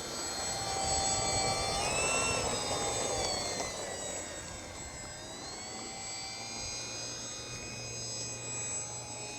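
Small airplane engine droning steadily in flight, a loud continuous propeller hum with shifting tonal whine, heard close from inside the cabin with no talking.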